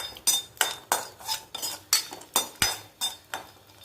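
Poha sautés in ghee in a pan for aval payasam, stirred with a metal spoon in quick, regular strokes. About a dozen clinking scrapes come in a steady rhythm over a faint sizzle.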